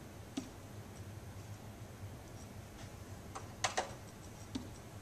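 Fingers tap out text on a smart board's on-screen keyboard: a handful of faint, irregular clicks and knocks, with a quick double tap near the end, over a low steady hum.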